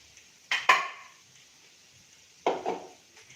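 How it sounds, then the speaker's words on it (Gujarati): A spoon stirs vegetable biryani with peas and corn in a metal pot. Two short bursts of scraping and clinking stand out against near silence. "હવે એને આપણે મિક્સ એકદમ સરસ કરી લઈએ"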